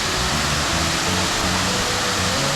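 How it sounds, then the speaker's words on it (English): Egypt Falls, a large waterfall in Nova Scotia, roars as a steady, dense broadband rush with no break, close and loud, with no voices. "That is a sick looking waterfall."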